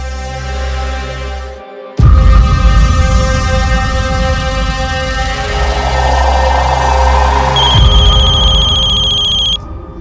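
A telephone rings loudly in a crime drama scene, its repeated tone layered over a dense, busy background of noise and music, with no speech.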